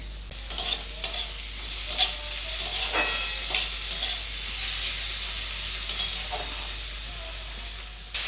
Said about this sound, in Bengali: পেঁয়াজগুলো লাল হয়ে গেছে টমেটো কুচি দিয়ে দিচ্ছি